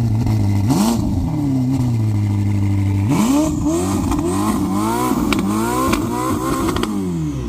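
A Ferrari SF90 supercar fitted with a Novitec exhaust, top down, revving loudly up close: a sustained idle, then repeated sharp climbing and falling blips of the engine.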